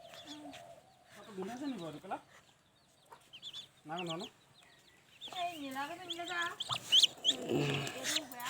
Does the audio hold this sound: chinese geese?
yes